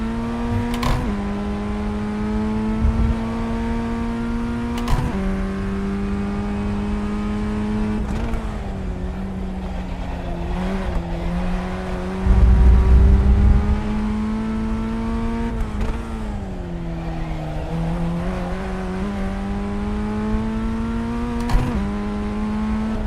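A formula race car laps Sebring alone, its engine note held steady and loud, then dipping and climbing again as it brakes and accelerates through corners, with occasional sharp gear changes and a brief low rumble midway.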